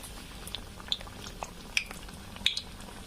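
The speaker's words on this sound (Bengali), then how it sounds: "উল্টে পাল্টে 2 পাশ লাল লাল করে ভেজে নিব" Besan-battered leaf fritters frying in oil give a soft, faint bubbling with a few sharp pops and spits, no talking.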